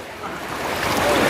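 Floodwater on the Jatinga river rushes in a steady, broad roar that builds slightly over a brief moment, with no voices over it.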